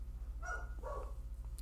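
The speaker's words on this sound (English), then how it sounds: "Dog bark." Two short barks from a dog in the video game Wonderful Everyday, evening scene, moderately loud over a steady low hum, with no one talking.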